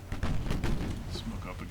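Naval gunfire in the Ultimate Admiral Dreadnoughts warship game: a run of deep, rumbling booms overlapping one another, with some faint higher battle noises in the later part.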